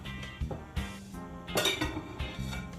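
Saltfish being put into a pot to cook, a few close metallic clanks and knocks of pot and utensils, fairly soft, with small clinks in between.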